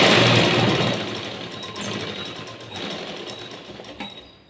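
A sewing machine stitching a blouse seam, a loud, steady, close motor whir with rapid needle chatter that eases off toward the end, without any talking.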